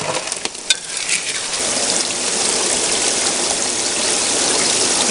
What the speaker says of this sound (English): I got a pretty good stream of water going through there.